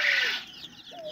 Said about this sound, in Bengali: ব্রয়লার মুরগি